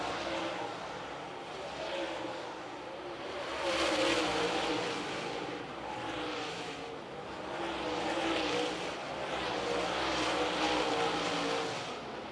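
Super late model race cars roar around the Lancaster Motor Speedway oval, their engines swelling and fading in repeated waves as the pack passes, a continuous loud racing drone throughout.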